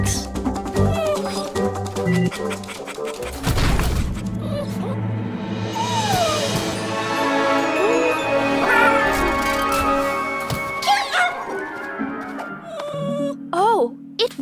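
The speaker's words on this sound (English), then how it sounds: "Not just a cat, a robot cat." Cartoon robot cat on Mars meows and wails in drawn-out, wavering cries among musical tones and effects, with a loud whoosh near the start and characters talking around it.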